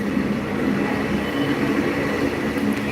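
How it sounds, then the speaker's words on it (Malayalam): A train moves through a crowded railway station platform, its rumbling wheels and carriages sounding steady and fairly close for the whole stretch, with no voices on top. "You will see the train now."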